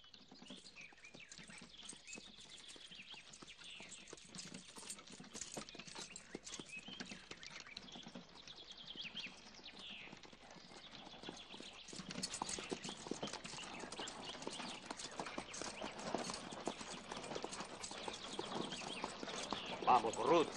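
Horse hooves clip-clop steadily on a rural path by a Valencian barraca as a well-harnessed horse passes, a continuous rhythmic patter that grows slightly louder toward the end, with faint birdsong in the background.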